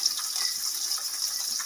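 Liquid pours steadily into a pan holding fried fish for a granulated banana fish soup, a soft continuous hissing splash at low level with no talk.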